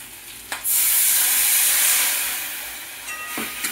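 Turmeric and chili powder for a vegetarian pointed gourd curry hit hot oil in a pan over low flame, bursting into a loud, close sizzle that slowly fades, with a couple of faint clinks from stirring.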